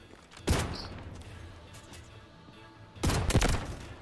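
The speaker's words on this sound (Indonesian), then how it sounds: "ada gunshot di situ" Gunfire in the video game Delta Force Hawk Ops: two separate loud bursts of shots, one short volley and then a longer rattling burst a few seconds later, with quiet game ambience in between.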